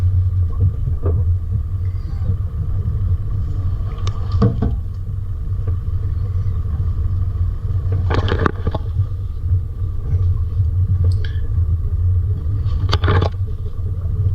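A car pushing slowly through dense bush, its engine rumbling low and steady up close while branches scrape and knock against the body and camera in several separate bursts.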